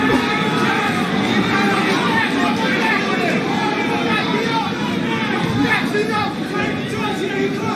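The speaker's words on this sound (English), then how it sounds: "This crowd is stunned." Large boxing arena crowd during the Teofimo Lopez versus George Kambosos fight, a dense sustained murmur and babble of thousands of voices, steady and fairly loud throughout with no distinct cheers.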